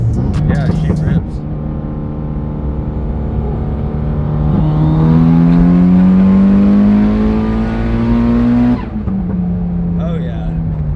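A car accelerates hard with its engine revving and pitch climbing steadily, loud and close. People talk briefly before and after the run.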